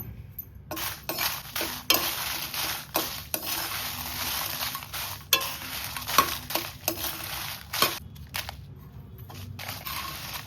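Red chilies frying on a low flame for rasam powder, with soft frying beneath repeated scraping and clattering stirs of a utensil against the pan.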